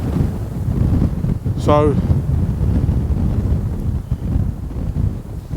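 Strong wind buffeting the microphone at Loch Etive in Scotland on an early morning, a loud continuous low rumble throughout, with one brief spoken word near the start.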